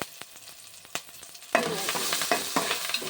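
Ginger garlic paste and chopped green chillies frying in a pan with a spoon tapping and scraping, first quieter knocks, then a louder burst of sizzling that continues under further stirring strokes.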